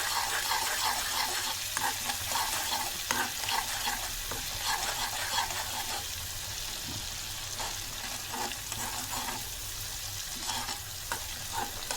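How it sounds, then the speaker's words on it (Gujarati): Garlic paste fries in oil over a low flame for seasoned yogurt, producing a steady crackling sizzle with repeated stirring scrapes throughout, no one speaking. "પેસ્ટને આપણે એકદમ ધીમા ગેસે સાંતળીશું"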